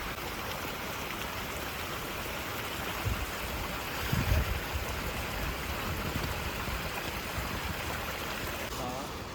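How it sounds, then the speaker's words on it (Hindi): Steady dense hiss of heavy rain pouring down, constant and enveloping, with a few faint low thumps partway through. "बहुत तेज बारिश पड़ रही दोस्तों।"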